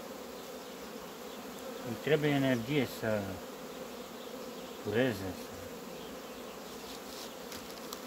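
Honeybees from a colony on a single frame in winter cold hum as a steady, low, continuous drone, while someone talks in Romanian over it in several short bursts.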